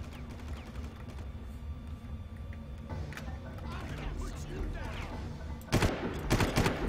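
Gunfire in the Far Cry shooter game: a dense sustained crackle of shots throughout, with a sharp louder burst of impacts near the end, under game background noise.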